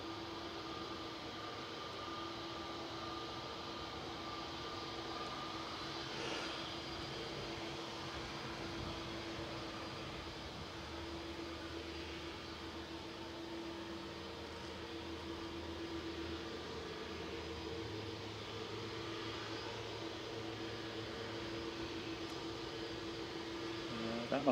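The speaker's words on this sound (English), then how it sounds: "Heading back down to London Heathrow with BA 1389, operated by TTNA today in their BA Better World livery." A British Airways Airbus A320neo in Better World livery taxis at Manchester Airport, heard as a faint, steady jet engine hum with distant background noise throughout.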